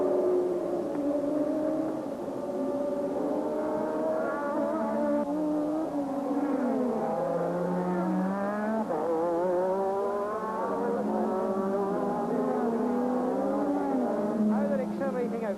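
Formula One race car at the 1985 Canadian Grand Prix, its engine pitch climbing and dropping through successive gear changes, loud and sustained under ongoing commentary.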